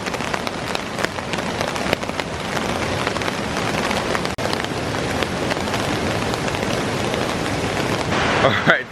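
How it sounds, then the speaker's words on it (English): Rain falls steadily on a tarp shelter outdoors in Jamaica, a dense, continuous patter of drops close overhead with occasional louder splats, holding strong and even throughout. "the rain came down for a short bit"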